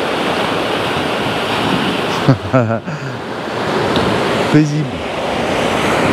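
Surf rolling in on the seashore with a steady broadband wash, continuous and fairly loud, while people talk briefly over it.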